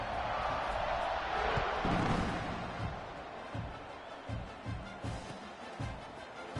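A home stadium crowd at Oklahoma roars in a college football video game against Michigan, a broad swelling cheer that slowly fades into a lower murmur punctuated by several dull thuds.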